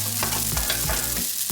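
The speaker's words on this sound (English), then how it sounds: "Stir the mushrooms round like so, and they're going to stir around for 2 minutes" Mushrooms stir-fry in a hot pan, a loud continuous sizzle broken by rhythmic scraping strokes of the stirring utensil, with no voices.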